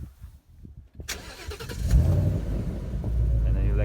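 A Mustang GT with active valve exhaust starts up and revs, a deep low rumble building after a sharp start transient and holding loud and steady, with people talking over the first moments.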